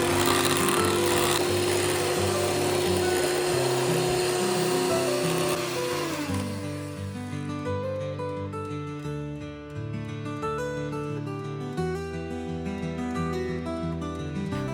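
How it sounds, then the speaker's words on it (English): An electric blender whirs steadily as it beats cream cheese with mango puree for a no-bake mango cheesecake filling, a loud, dense motor drone that shifts pitch partway through as the mixture thickens, with no voices. "Beat it with a blender for about 1½ minutes or until it turns slightly thicker"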